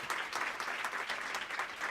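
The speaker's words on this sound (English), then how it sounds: "Let's have another round of applause for our fantastic students." Audience applause at a panel event on school segregation with student representatives, a dense steady clapping crowd sustained throughout without a break.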